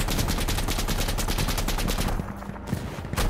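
Sustained rapid automatic gunfire from a G3 rifle and other weapons in the tactical shooter game Insurgency, loud and dense for two seconds before easing into scattered shots and a renewed burst.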